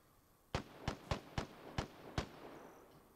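Six sharp gunshots in quick, slightly uneven succession from gunfire in the Xbox One X game Vigor, heard at a moderate distance against a quiet background.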